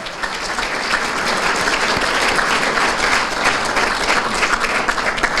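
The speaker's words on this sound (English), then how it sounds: "a round of applause for the 2017 class of the Hamilton Athletic Hall of Fame." A crowd at a school district athletic Hall of Fame ceremony gives sustained applause for the 2017 inductee class, dense, even clapping filling the room throughout.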